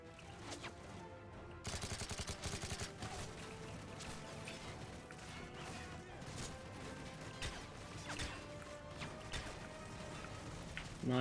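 Gunfire in the video game Modern Warfare 3, with rapid bursts of shots and mechanical game effects sitting fairly faint in a busy mix.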